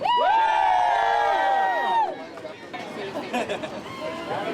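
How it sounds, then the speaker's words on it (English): A crowd of striking actors at a Hollywood picket lets out a loud, sustained cheer and whoop, then it fades into scattered chatter and murmuring. "A great big cheer on 3."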